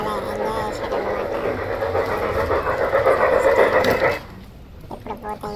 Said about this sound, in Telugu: మంచిగా ట్రైన్ సౌండ్ కూడా పెట్టారు.